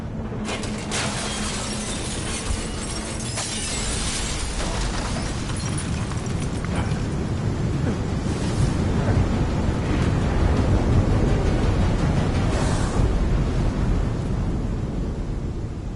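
Loud, steady roar of sandstorm wind in Deus Ex: Mankind Divided, a dense gusting rush that swells and fades over sixteen seconds, with scattered sharper bursts mixed in.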